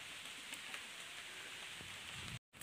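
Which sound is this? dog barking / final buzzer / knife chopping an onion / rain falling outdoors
rain falling outdoors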